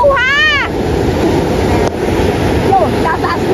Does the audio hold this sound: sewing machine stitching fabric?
no